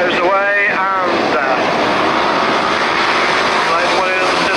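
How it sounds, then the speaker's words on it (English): Grasstrack racing motorcycles revving hard at the start gate of a 1989 race meeting, a loud continuous engine roar with rising and falling pitch sweeps near the start, filling the whole stretch. "So the revs rise"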